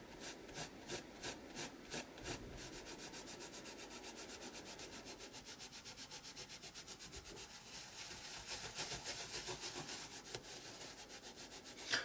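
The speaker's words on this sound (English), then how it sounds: "I'm not rubbing too hard, because if I rub too hard it's going to take the top layer of the paper off" A damp baby wipe being rubbed over art journal paper, opening with a few separate strokes and then settling into a rapid, even back-and-forth rasping, close and quiet.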